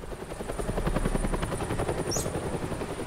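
In the video game Batman: The Telltale Series, a helicopter flies with a rapid rhythmic rotor thump and engine drone, steady and fairly close throughout, with no talk.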